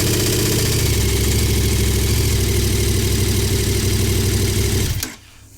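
A 2021 or later KTM 1290 Super Adventure R motorcycle engine runs at a steady, loud idle throughout, then cuts off abruptly near the end, leaving near silence.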